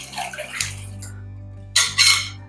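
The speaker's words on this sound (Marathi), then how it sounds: "पहिले मी याच्यातलं वरचं पाणी काढून घेते व्यवस्थित एका भांड्यात" Clam water is poured off into a pot in two short splashing gushes, close and fairly loud, separated by a pause filled with a low steady hum.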